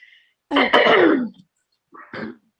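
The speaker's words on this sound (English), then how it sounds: "let me clear my throat" A person clears their throat with one harsh, gravelly rasp, then a shorter second clearing follows after a brief pause.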